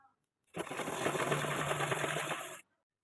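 Sewing machine stitching a straight seam on a blouse placket, a steady rapid whirring run of about two seconds, close and clear, starting and stopping abruptly.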